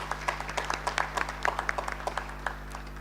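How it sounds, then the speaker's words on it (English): Light, scattered applause from a forum audience, soft and somewhat distant, individual claps standing out over a steady low hum in the room. "Another big round of applause,"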